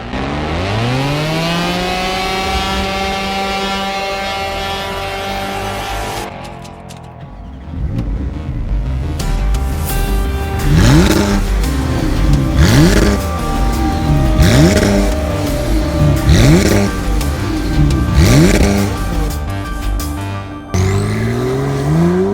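A Porsche 911 Carrera on a road test drive, its engine rising steadily in pitch, then revving hard through repeated upshifts, loud and close throughout with no talk.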